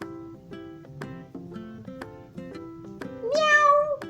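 A voice imitates a cat's meow, a series of short pitched vocal calls alongside a paper-folded origami cat, ending in a louder, higher drawn-out meow.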